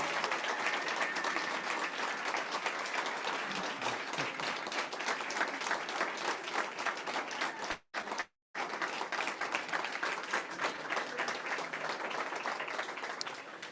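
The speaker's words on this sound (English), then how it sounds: "So big round of applause for Zanetta." A startup demo day audience gives sustained applause in a room, with thick continuous clapping from many hands and a very brief drop in the middle before it resumes.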